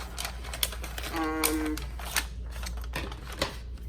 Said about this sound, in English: I use a scissor just to cut the edge off, all four sides